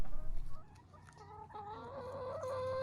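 Free-range chickens cluck softly outdoors, a few scattered bird calls and low clucks at moderate distance over quiet open-air background, no one speaking.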